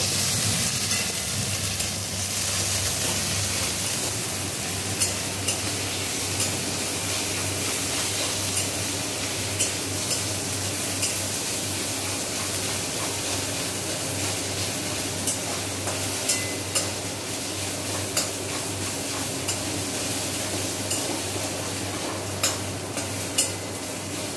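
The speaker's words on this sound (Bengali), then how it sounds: "এবার সব মশলাগুলো ভালোভাবে নেড়ে নেব।" A pan of onion, garlic, ginger and spices fries with a steady sizzle while a utensil stirs and scrapes, leaving small clicks and knocks that recur throughout.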